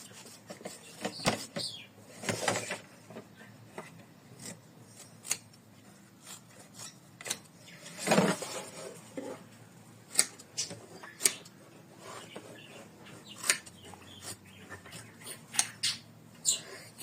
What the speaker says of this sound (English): So now you gotta trim this heart.